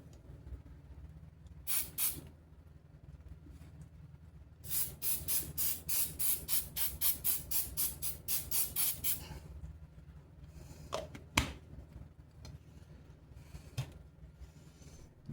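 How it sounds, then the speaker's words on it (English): Accelerator sprayed from an aerosol can onto a model build: short bursts of hissing spray near 2 s, then a long run of rapid, rhythmic pulsed squirts, loud and close, with a few softer hisses after. "Let's spray this with the accelerator."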